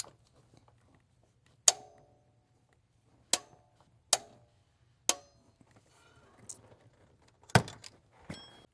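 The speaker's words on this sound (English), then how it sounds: "I'm gonna grab the torque wrench. Now we just need to torque it down to 37 foot-pounds." Sharp, isolated metallic clicks from a torque wrench tightening the tensioner pulley bolt on a 2007–2014 Chevrolet Silverado 5.3L, about six spaced snaps over a quiet background with a faint low hum.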